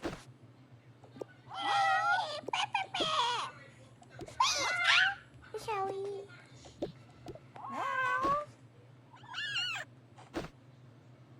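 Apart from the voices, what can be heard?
cat meowing in Toca Boca video game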